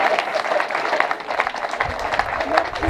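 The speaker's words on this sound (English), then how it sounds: "So can you clap for us?" Scattered applause from a crowd at a school tablets launch, moderate and uneven, with voices mixed in underneath.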